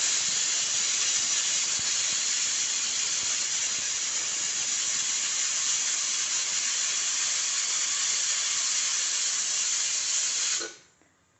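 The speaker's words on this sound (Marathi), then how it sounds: "कुकरमध्ये 5 शिट्ट्या होईपर्यंत हरभरे चांगले शिजवून घेऊया." A pressure cooker cooking chickpeas lets out a steady, loud steam whistle that hisses continuously for several seconds and then cuts off abruptly, with no talk over it.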